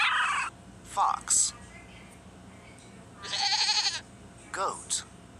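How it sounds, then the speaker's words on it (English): Goat bleating from a toddler animal picture book game, one long wavering bleat in the middle flanked by shorter effect sounds, close and clear. "Goat."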